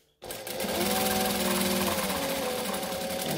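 A sewing machine stitches steadily in a sewing tutorial, starting abruptly and then running as a loud, continuous rapid mechanical whir for several seconds, with no talking over it.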